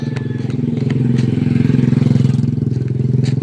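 A Honda Click motor scooter engine idles steadily up close at a shop, a loud, even puttering drone with a rapid regular pulse throughout and faint clicks over it.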